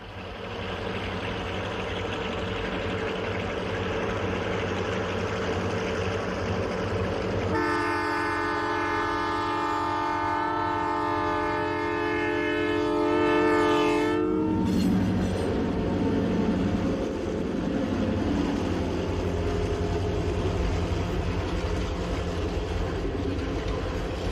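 A passenger train rumbles steadily while climbing a steep mountain grade at the Continental Divide, then a loud, sustained multi-tone horn sounds for several seconds before fading back into the engine's heavy labouring drone.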